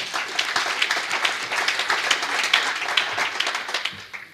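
Audience applause at a panel discussion on saving money fills the hall, a dense, steady patter of many hands clapping that holds evenly and then begins to thin out at the very end.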